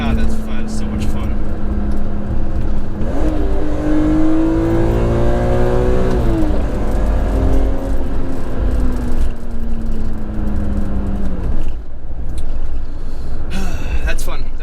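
A rare BMW car engine revs hard while driving, rising in pitch through the gears with a sharp upshift sweep, then easing and dropping as it is downshifted, heard from inside the car.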